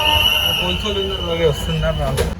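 A passenger train on the way to Tirupati rumbles steadily from inside the coach, a continuous low roar with a high whine running through it, while a person talks over it.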